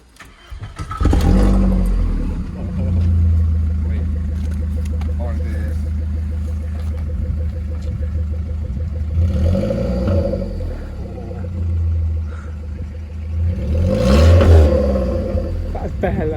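A Volkswagen Golf Mk4 with a 1.4 engine and a straight-pipe exhaust starts and revs up loudly, holding a steady rumbling idle between two sharp rev surges, with faint voices in the background.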